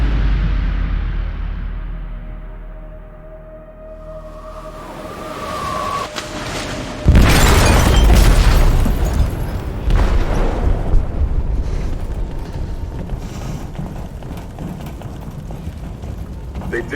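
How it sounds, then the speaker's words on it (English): A loud explosion in a ship's hold in the game Detroit: Become Human bursts in suddenly after quieter mechanical rumble, followed by a long, heavy roaring wash of debris and rumble. "They detonated an explosive in the hold."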